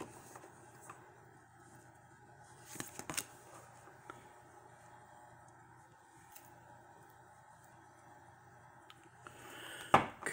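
Tarot cards being pulled and shuffled from a deck, soft faint paper rustles and light slides at close range in a quiet room, with a sharper snap of cards near the end.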